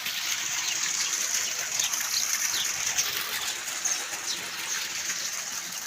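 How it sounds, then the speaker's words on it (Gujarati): Water pours steadily into a tank at a rural house under construction, a continuous close gushing rush with no pauses, and faint bird calls in the background. "આપણે પાણી ચાલુ છે કુંડીની અંદર"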